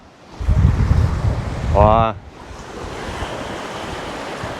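Wind-blown surf washes along the Dead Sea shore in a steady broadband rush, loud up close, with a brief vocal sound in the middle.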